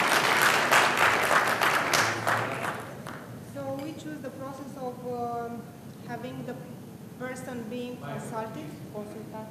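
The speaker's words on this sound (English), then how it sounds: "We need to give her applause." An audience applauding at a quality and process improvement lecture: brief, loud clapping for about three seconds that then fades, followed by a speaker talking alone.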